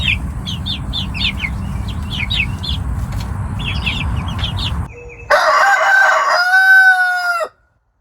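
Chickens kept in a hoop coop chicken tractor out on fresh grass: a rooster crows loudly near the end over a busy background of clucking hens and chirping birds.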